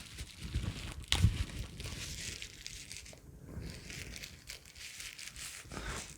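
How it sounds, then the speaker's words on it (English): Crinkling and crumpling of a taped plastic bag being pulled open to unpack camera accessories, close and fairly soft, with one sharper tearing crackle early on and steady rustling throughout. "Try not to rip the bag."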